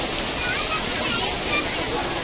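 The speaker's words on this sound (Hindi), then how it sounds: "झरना" A waterfall at a crowded tourist spot on a Tirupati trip gives a loud, continuous broadband rush of falling water, steady for the whole short stretch with no clear voices on top.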